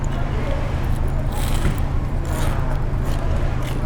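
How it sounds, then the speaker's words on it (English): Crunchy bites into greasy fried dough with a red bean filling at a halal street food stall in Beijing, crisp crackling crunches close up over steady street background noise. "Let's take a bite."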